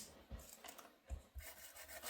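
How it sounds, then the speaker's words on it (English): Soft, dry rubbing and scraping of a small sanding disc against paper edges, in short uneven strokes, quiet and close. "Then I want to take my little sandpaper here. This is just a sanding disc"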